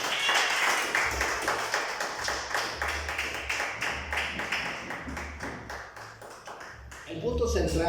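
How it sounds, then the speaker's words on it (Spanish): A church congregation claps together in a rhythmic, steady applause that slowly fades, with voices speaking over it near the end. "Denle un fuerte aplauso a Dios en esta noche"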